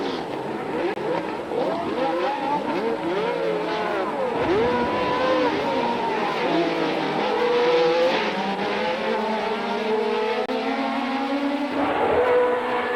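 Formula 1 race cars from the 1975 season howl past on track, with multiple high-pitched engines overlapping, rising and falling in pitch as they accelerate and pass, continuous and loud throughout.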